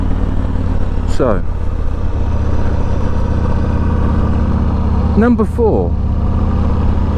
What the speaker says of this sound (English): A thumping V-twin